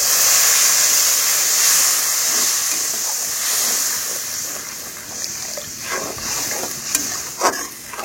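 Water poured into a hot pan of frying spices with salt, turmeric, dry chilli powder and ginger paste for a katla fish head curry, giving a loud steady hiss and sizzle that slowly fades with a few clinks near the end.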